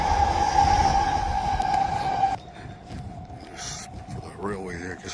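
SkyTrain train running along an elevated railway in Burnaby, British Columbia, a steady loud rumble with a high whine that cuts off partway through, leaving quieter street noise and a faint voice.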